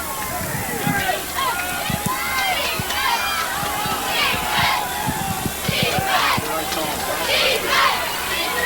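A large crowd at a 1988 WPIAL playoff high school football game between Central Catholic and North Hills chants and cheers in steady waves, dense and echoing, with a commentator talking over it.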